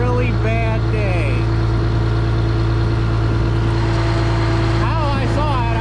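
A 1955 Oliver tractor engine runs steadily on muck farmland during spring tillage, a loud, close, low droning hum throughout, with a person's voice briefly heard over it.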